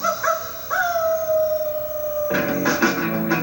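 A voice mimics a long drawn-out howl, rising then holding a steady wavering tone for about a second and a half before laughter and noisy chatter burst in.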